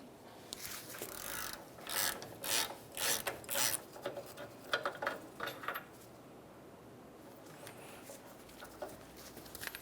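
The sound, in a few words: removing 16mm brake caliper bracket bolts with ratchet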